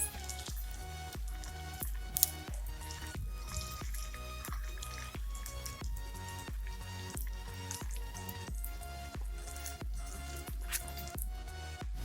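Chicken 65 pieces frying in hot oil after being flipped, a steady close crackle and sputter with rhythmic bursts of popping droplets repeating every second or so, moderately loud, no talking.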